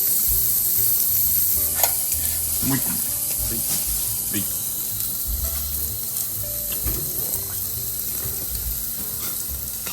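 Akaushi wagyu steaks and yakiniku cuts sizzling steadily on a hot grill, a constant crackling hiss with occasional pops, while people talk briefly.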